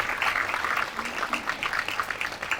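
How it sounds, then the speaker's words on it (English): Steady applause from a crowd at a hospital ribbon-cutting ceremony, moderately loud, sustained without pause through the short stretch. "we can applaud for that"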